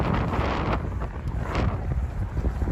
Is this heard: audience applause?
no